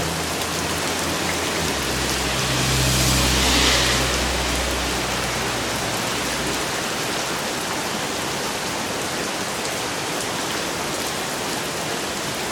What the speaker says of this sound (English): We're finally getting some rain.